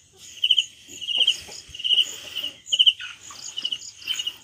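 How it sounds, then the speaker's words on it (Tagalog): Crickets chirp beside a bamboo coop for Rhode Island Red chickens, with rapid high trills repeating in quick bursts over a constant insect drone and soft background rustling. "May kasama pang kuliglig."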